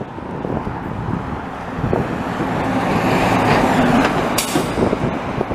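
A truck rumbles past on a Montreal street in the Ville-Marie borough, a loud low roar swelling to a peak and then easing, with traffic noise around it.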